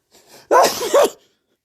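A single close, loud human sneeze with a brief inhaled build-up followed by a sharp two-part burst, then silence.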